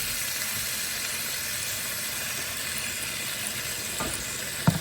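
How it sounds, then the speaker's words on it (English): Steady sizzling and hissing come from a pan as it is scraped and deglazed while cooking Cajun pasta jambalaya, with soft stirring scrapes throughout and a sharp knock at the very end. "Scraping my pan, deglazing my pan so I can get that dark"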